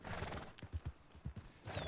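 Hooves clip-clop in an uneven rhythm at the front while a horse whinnies in a video game, with a game music tone entering near the end.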